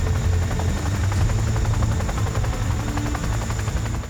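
A 12-ton Chinook helicopter runs on skis over deep Alaskan snow, its twin rotors giving a steady, loud, close thudding drone with continuous engine whine and no voices.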